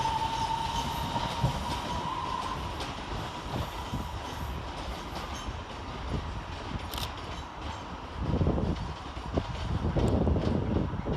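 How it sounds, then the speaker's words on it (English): Northern Rail class 323 electric multiple unit pulling out of a station, a steady rumbling rail roar with wheel noise and a brief high whine, growing louder toward the end with no voices. "Taking us by surprise on departure is 323232, working the slightly delayed 1047 Northern Rail service to Stoke-on-Trent."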